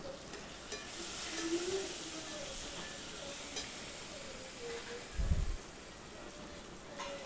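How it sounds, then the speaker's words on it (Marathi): Cumin seeds and curry leaves sizzle steadily as they are sautéed in a pan for upma, a continuous close frying hiss broken by one brief dull knock near the end. "थोडीशी जिरा ॲड करायची आहे आणि थोडासा कढीपत्ता. इथे छान असं परतून घ्यायचं आहे."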